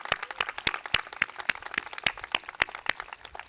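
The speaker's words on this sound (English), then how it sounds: "And I just think we owe Craig a round of applause for his work and leadership" Applause at an elementary school ribbon cutting ceremony, a sparse crowd clapping with distinct, crisp individual claps in an uneven rhythm at moderate volume.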